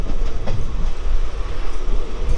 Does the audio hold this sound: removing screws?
no